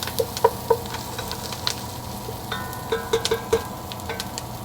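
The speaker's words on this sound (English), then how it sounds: "So give it a good stir and let it brown some more." Lamb shanks browning in a hot pan hiss under a soft, steady sizzle while a utensil stirs them. Bright clinks and scrapes come in small clusters near the start and again toward the end.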